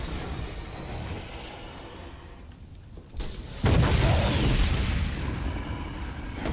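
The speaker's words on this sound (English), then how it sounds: "Did you just shoot a missile at him?" A missile explosion in the Resident Evil 3 video game: a low rumbling backdrop gives way to a sudden loud boom around the midpoint, followed by a sustained heavy roar that slowly decays.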